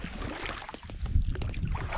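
Paddling a small boat across an alpine mountain lake, with soft, close water swishes and dips in an uneven rhythm over a low, breezy background.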